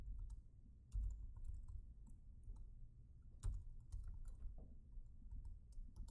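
Fingers type on a computer keyboard in quick, uneven bursts of soft clicks, close but quiet, with no talking.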